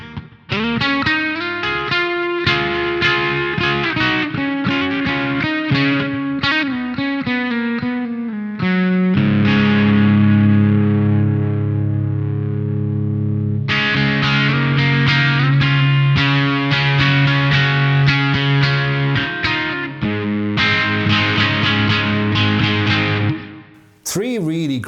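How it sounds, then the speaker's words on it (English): Electric guitar overdrive through a Source Audio LA Lady pedal in a midsy, tube-screamer-style lead setting, playing loud sustained notes and chords with distortion and a long held passage, alone with no talking. "Three really great, like, overdrive kind of sounds available from one pedal"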